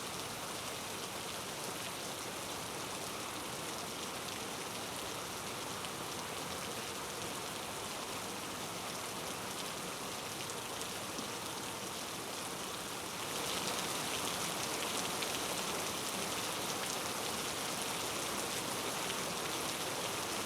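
Heavy monsoon rain pouring down in Raigad, a dense, unbroken hiss of falling water that grows slightly louder partway through, with no voices.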